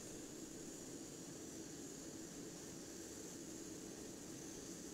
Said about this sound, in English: Starting engine 2. While that's starting, we'll take a quick look here at the center.